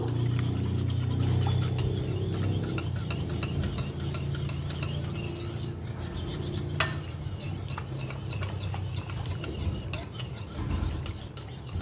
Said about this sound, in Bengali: এটা দিয়ে আমি খুব ভালো করে এটাকে মিশিয়ে নেব